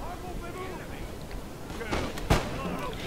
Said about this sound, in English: So I'm gonna get the second rank now to basically fire at will.